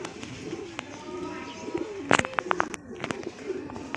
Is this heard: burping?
no